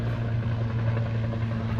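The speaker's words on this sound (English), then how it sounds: "Got the helicopters out here." Helicopters flying overhead outdoors on a clear day, a steady low rotor drone, loud and close, filling the whole short stretch without any talk.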